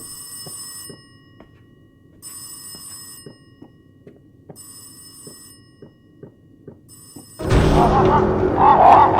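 An old-style telephone bell rings in bursts of about one second with pauses between, inside the horror game Rise of Insanity, with soft ticking underneath before a loud, harsh roaring noise takes over near the end.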